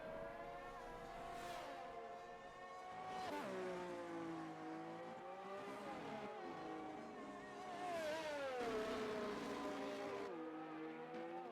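F1 race cars in a racing video game, engines screaming through rising and falling revs as gears shift, with braking dips and re-accelerations, loud and continuous without voices.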